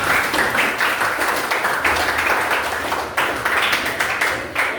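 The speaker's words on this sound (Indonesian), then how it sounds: "tepuk tangan bersama" Audience clapping together in unison at an Indonesian training session, loud rhythmic group claps in steady waves with short pauses between bursts.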